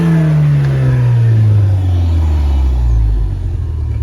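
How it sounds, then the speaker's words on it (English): A Ford Mustang with the 2.3 L turbo engine and manual transmission is revved up close, then its loud, droning note slowly falls as the revs drop back toward idle. "I'm gonna give it some gas so that you can hear it."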